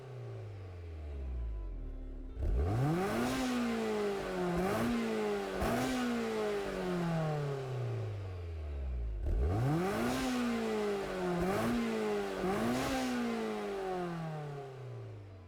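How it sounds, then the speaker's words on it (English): A Fiat 500 swapped with a Honda Integra Type R DC2 engine in Gran Turismo 7 revs hard twice, each run climbing to a high-pitched rasp with quick gear-change dips, loud and alone. "we have the Fiat 500 taking the Integra motor"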